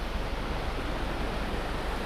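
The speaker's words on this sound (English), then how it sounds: "The rocks basically just being cut through by the water" A river rushes through rocks beneath a bridge along Telkwa Pass, a dense, steady broadband roar of turbulent water, close and loud, with no voices.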